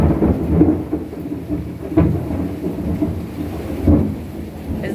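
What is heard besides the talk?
thunder during a thunderstorm, Boynton Beach, Florida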